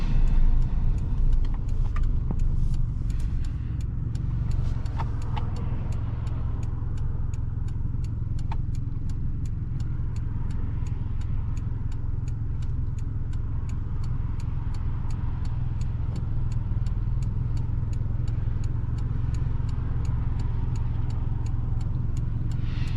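Steady engine drone and road rumble inside a 2006 Subaru Forester 2.5 X with all-wheel drive on the move, with faint regular ticking over the constant low hum.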